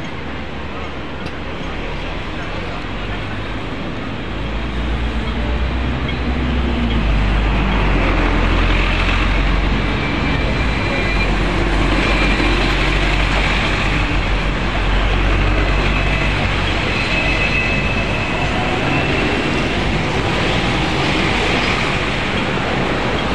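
Steady rumbling rolling noise of a Hong Kong tram running along its track, continuous and fairly loud for the whole stretch.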